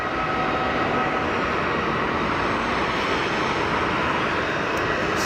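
Air Canada A330 airliner engines running after pushback at Geneva Airport, a steady, loud broadband roar and whine holding constant throughout without talk.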